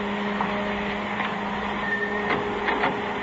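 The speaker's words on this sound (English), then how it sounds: "Kill that dryer, will you?" A photographic print dryer runs in a darkroom with a steady mechanical hum and drone, constant and moderately loud throughout, with faint clicks and no talk.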